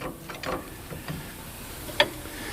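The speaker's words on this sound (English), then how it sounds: "The gear shifter right here now goes into fourth and third." The gear shifter of an old backhoe, abandoned for ten years, is worked into gear with faint mechanical clicks and ratcheting clunks, ending in one sharper metallic knock.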